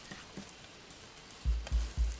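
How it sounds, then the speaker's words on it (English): Peanuts stirred into thick, sticky sauce in a hot pan give a soft, steady sizzle, ending in three quick, heavy scraping strokes close by. "Add the peanuts. Quickly stir a few times."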